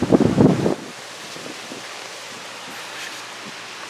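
Strong outdoor wind roars in a loud gust against the microphone, then settles into a steady, softer rushing with faint rustling.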